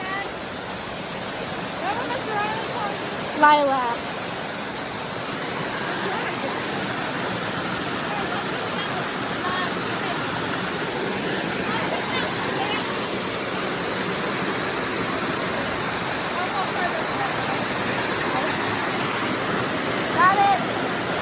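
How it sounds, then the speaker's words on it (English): A waterfall at a swimming spot pours a steady, full rush of falling water that fills the whole stretch, with a few brief voices breaking through over it. "I'm going back to the waterfall."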